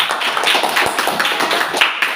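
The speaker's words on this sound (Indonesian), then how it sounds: "kita beri tepuk tangan untuk kelompok 2" A classroom group claps for a presenting team, with steady mixed handclaps and taps running for a couple of seconds without talk.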